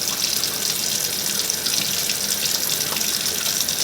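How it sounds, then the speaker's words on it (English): Water runs steadily from a tap into a stainless steel sink at close range, a loud continuous rushing splash with no talking over it. "water running to your desired temperature."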